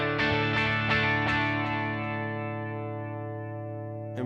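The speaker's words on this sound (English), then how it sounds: "So let's do a tape echo and make it default." Guitar through a tape echo delay set to dotted eighths on a Headrush MX5 processor: a few picked notes ring out and repeat in rhythmic echoes, then sustain and fade, with another note entering at the end.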